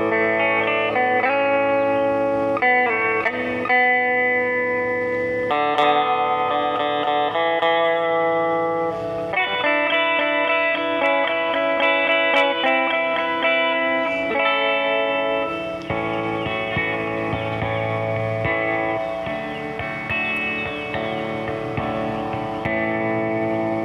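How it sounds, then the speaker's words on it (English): An electric guitar played through a Fender Princeton 65 amp with reverb turned on, sustained chords and notes washing out into a lingering spacious tail, loud and continuous for the whole stretch. "That's the reverb kicking in."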